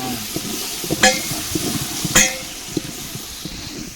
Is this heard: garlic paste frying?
yes